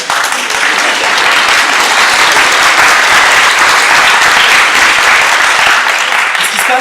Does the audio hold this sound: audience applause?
yes